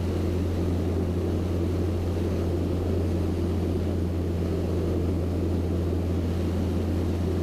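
Cabin drone of a Piper PA28 Cherokee light aircraft's engine in level flight, a loud, steady, unbroken hum with a strong low tone, no talk.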